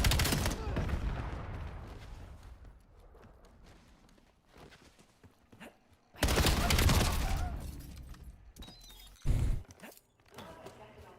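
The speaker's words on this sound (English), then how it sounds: "I love shooting at a black blob." Loud bursts of gunfire in Black Ops 7 erupt in short, separated volleys with quieter gaps between them, and people talk in the background.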